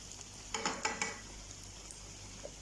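Sugar pastry (fateer) dough frying in hot oil, a faint steady sizzle with a few soft bubbling bursts early on, close and quiet, no talking.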